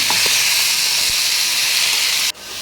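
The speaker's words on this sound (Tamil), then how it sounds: "எல்லாத்தையும் போட்டு வதக்கிட்டு இப்போ நம்ம கட் பண்ணி வச்சோம்ல அதையும் போட்டுக்கலாம்" Chopped pirandai sizzles with dried chillies and tamarind in a hot pan, a loud, close, steady hiss with a few faint clicks, cutting abruptly near the end and returning more quietly.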